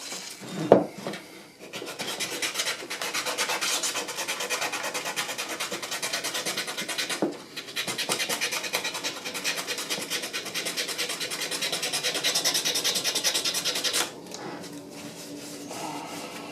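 Steady hand sanding with 320-grit abrasive on the steel slide of a 1911 pistol, a continuous dry rasping stroke that runs for long stretches, broken by a short pause and a brief knock near the start.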